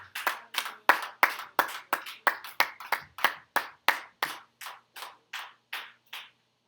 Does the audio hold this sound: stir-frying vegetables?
no